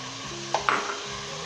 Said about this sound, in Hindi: और मज़ीद हम 10 मिनट के लिए भुनेंगे अच्छे तरीके के साथ।